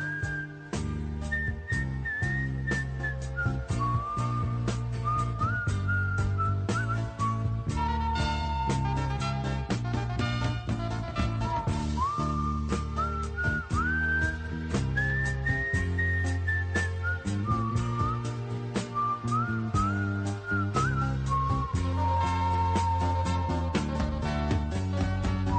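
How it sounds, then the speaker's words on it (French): A person whistles a continuous, wavering melody with bright sustained notes and slides, carried over steady accompanying music on a French TV talk show. "Est-ce que c'est vous qui sifflez"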